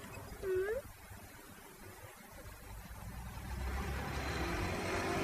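Car traffic forms a steady roar of passing vehicles that swells louder over the final seconds, with a brief voice near the start.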